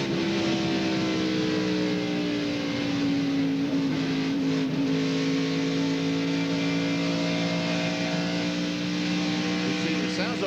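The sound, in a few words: 1997 stock car race car engine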